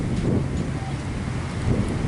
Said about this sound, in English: It's real windy over here right now.